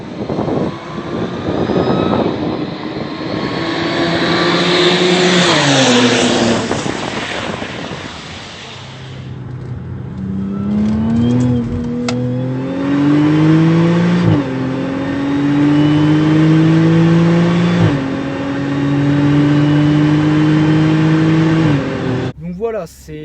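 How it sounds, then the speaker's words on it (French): A supercharged Audi S4 B8 engine, remapped to 450 hp, revs repeatedly, pitch climbing and dropping with a whistling supercharger whine over the roar, loud and close, in several rising pulls. "Le bruit de compresseur est assez spécial"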